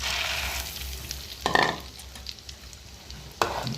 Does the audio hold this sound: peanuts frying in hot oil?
yes